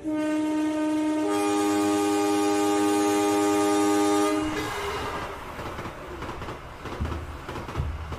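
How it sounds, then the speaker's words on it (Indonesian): A cartoon-style train effect: a long, loud chord-like horn blast, then rolling rumble and clatter of the train passing at night by a station tunnel, fading slightly at the end. "Kok ada kereta yang lewat ya?"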